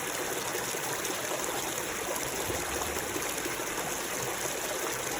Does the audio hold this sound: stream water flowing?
yes